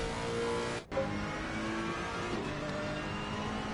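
Race cars in an online sim racing event at Donington Park, including a Bentley, BMW and Ferrari, their engines droning steadily at close range with a brief dropout near the start and no talk.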